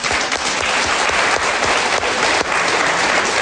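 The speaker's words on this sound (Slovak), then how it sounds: "Potlesk preňho." An audience at a quiz show breaks into loud, sustained applause, a dense wash of clapping that fills the whole stretch without pause.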